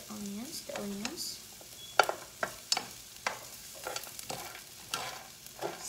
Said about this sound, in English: Sauteing the spices.